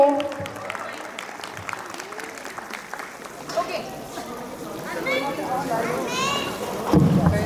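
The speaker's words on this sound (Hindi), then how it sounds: "तालियां बजाओ यार, रेडी है तो।" Wedding guests at a haldi ceremony clap together as a crowd, a steady wash of claps mixed with loud chatter and children's voices throughout.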